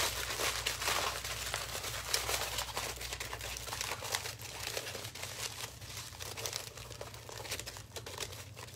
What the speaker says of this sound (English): I'm just gonna start crumpling it up.